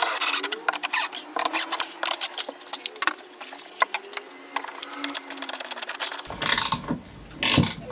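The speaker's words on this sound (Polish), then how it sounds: "Wkrętarka nie daje rady." A cordless drill driver strains to drive screws into a wooden board-storage shelf frame, its clicking, ratcheting whir coming in repeated bursts close by, with a louder rougher spell near the end.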